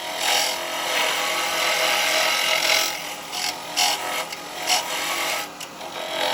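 Carbide chisels cut into a small wooden vase spinning on a lathe, a loud, close, rough scraping and rasping that runs steadily, then breaks into shorter uneven strokes toward the end.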